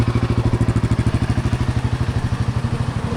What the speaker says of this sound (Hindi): अब गाड़ी को करेंगे, अपनी बाइक को करेंगे कोल्ड स्टार्ट।